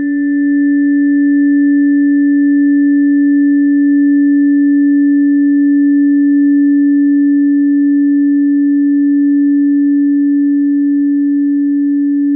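A 285 hertz pure sine tone drones loud and perfectly steady from start to finish, alone with no voices or other sounds.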